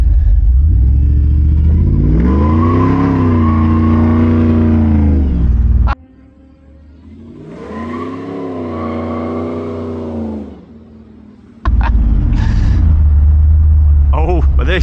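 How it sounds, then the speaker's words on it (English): A second-generation Ford SVT Lightning pickup doing burnouts gives two loud, sustained bursts of roaring, revving engine noise, split by a brief quieter gap, with another loud surge at the end. "a couple burnouts here"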